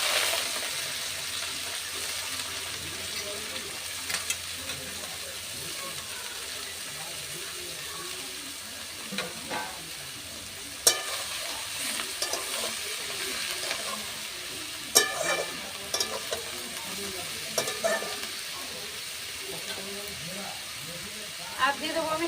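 Bete greens sizzle in a hot pan, a steady crackling hiss broken by sharp clinks and scrapes of stirring, with a voice heard now and then.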